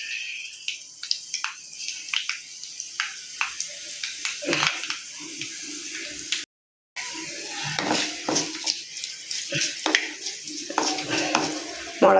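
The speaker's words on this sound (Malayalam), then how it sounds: "ഉണക്കമുളക് ഇട്ട് കൊടുക്കാം" Mustard seeds, cumin and dried red chilies fry and crackle in hot oil in a home kitchen, with scattered pops, scraping stirs and pan clinks, close and fairly quiet, broken by a brief silence.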